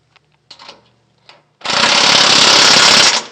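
A 1/2 inch flange nut and bolt being driven tight on a Toyota Tacoma transfer case skid plate: a few faint clicks, then a loud, close, continuous rattling impact-tool burst lasting over a second.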